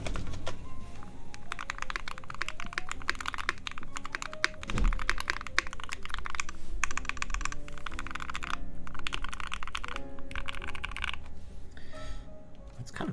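Mechanical keyboard with NK Dry Yellow switches on a Rama Works Zenith prototype board, typed in quick, continuous bursts of deep, muted keystrokes close up, with brief pauses and no voice.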